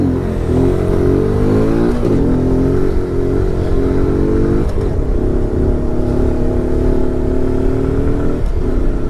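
Motorcycle engine revving up hard and shifting up through the gears to fourth, a loud, close rising whine that drops briefly at each gear change, with constant wind noise.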